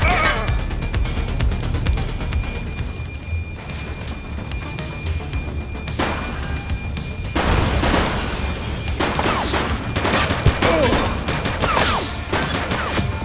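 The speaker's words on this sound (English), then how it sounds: "He's shooting!" Gunfire in The Precinct police video game, a dense run of shots and bangs amid a loud, busy game mix over sustained background noise and music.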